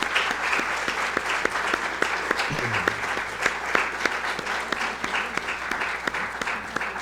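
Sustained audience applause fills a university student media awards ceremony for the professors seated in the front row, a steady dense clatter of many hands clapping close by, with no talk over it.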